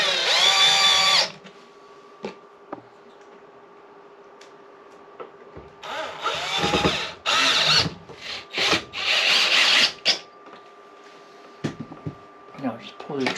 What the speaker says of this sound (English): put our screws back in.